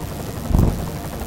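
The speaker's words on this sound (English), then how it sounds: "Enemy helo sighted." Enemy helicopter in the video game Deus Ex: a low rotor rumble with a brief, louder swell midway through a short burst.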